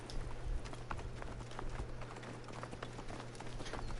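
Horses' hooves in the video game Assassin's Creed Origins: a steady run of clip-clop hoofbeats at middle distance over a constant low hum, with no talk.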